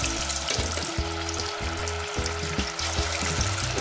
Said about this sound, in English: So put all the fish in there.